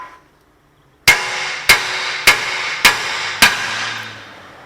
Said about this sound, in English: hit it on the side right here